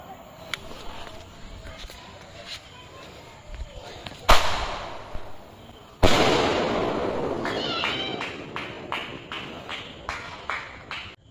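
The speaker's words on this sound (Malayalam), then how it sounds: "അപ്പോൾ നമ്മൾ സ്കൈ ഷോട്ട് കത്തിക്കാൻ പോവാണ്." A 1.25-inch sky shot firework from Kannan Crackers is lit, giving a sharp crack, then a loud hissing burst and a rapid run of smaller pops that fade off, with a voice speaking nearby.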